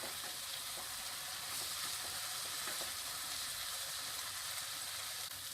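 Achari bhindi, okra cooked with masala, lemon juice and green coriander, fries and is stirred in a pan with a steady soft sizzle and faint stirring scrapes throughout.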